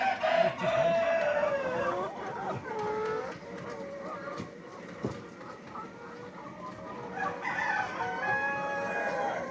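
Layer hens on a poultry farm cluck and crow in repeated bursts, fairly close and moderately loud, with no talking.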